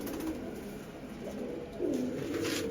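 A pair of pigeons coos softly nearby, a low repeated burbling call that swells and settles over a few seconds, with no one speaking.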